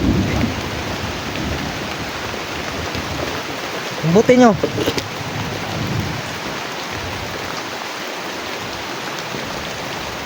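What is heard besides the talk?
rain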